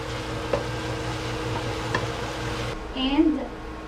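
Food sizzles softly in a pan while being stirred during a cook-off, a low steady fry with a couple of light clicks, then a brief muffled shift near the end.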